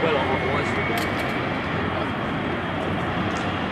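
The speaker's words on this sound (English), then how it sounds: "Here they go then, rolling individually. That's the two-seat Vampire first, the T-55." A MiG-15UTI and a de Havilland Vampire T.55 jet fighter roll along the runway at Duxford, producing a loud, steady roar of jet engine noise that fills the whole clip.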